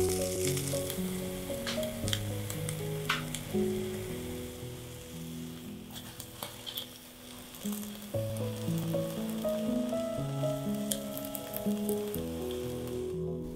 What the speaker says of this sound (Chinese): 那因为用比较大的火力嘛，所以时间呢每一面大概就只能煎个1分半